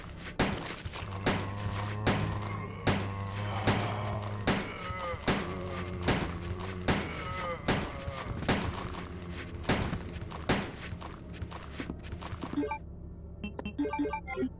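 Repeated gunfire aimed at zombies in the original Resident Evil 2, sharp shots roughly every half second to a second, about fifteen in a row, loud and close over a steady game music bed, with no talk.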